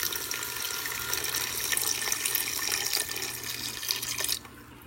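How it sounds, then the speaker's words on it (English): Water is poured slowly into a very hot pan of spice mix, producing a steady loud hiss and sizzle that runs continuously for several seconds before dropping away abruptly near the end. "Next, we're going to add 1½ cup of water. Now pour it in slowly because that pan is really hot."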